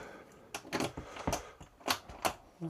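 Small metal bicycle pannier lock snapping open and shut, a series of sharp mechanical clicks and clacks close up, several in quick succession with brief gaps between them.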